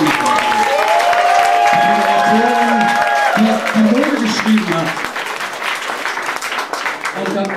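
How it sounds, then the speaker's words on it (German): Audience applause at the NORD AWARD ceremony on Sylt for presenter Uschi Nerke, steady crowd clapping beneath a voice speaking over it, then fading slightly toward the end. "Ein Applaus an Uschi Merkel"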